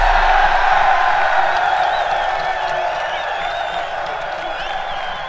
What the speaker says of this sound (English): that's probably the only time I did hear the crowd. They did cheer